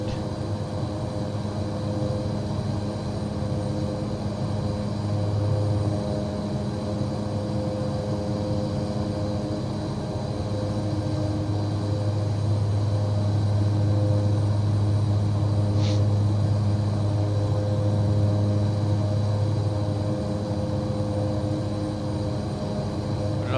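Steady drone of the Cessna 408 SkyCourier's twin turboprop engines in Microsoft Flight Simulator 2024 during a C408 cargo mission, a continuous even hum with layered tones and no voices, holding level throughout.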